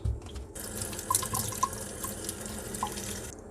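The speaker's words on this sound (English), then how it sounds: "I'm just watering the potting medium and not the moss" Water poured onto the potting medium of a potted plant beside a moss pole, a soft close trickling and splashing with a few small drips, alone without talk.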